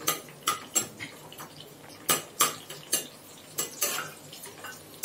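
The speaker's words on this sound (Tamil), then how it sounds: "நல்லா கிளறி விட்டுக்கலாம்." Large chopped onions stirred in a pan for a South Indian fish curry: a utensil scrapes and clinks against the pan in a steady series of sharp, fairly close strokes, with no talking.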